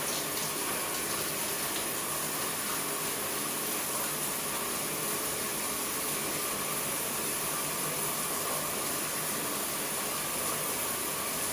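Water runs steadily from a newly installed shower, a constant broad hiss without breaks, fairly loud and close, with no talk.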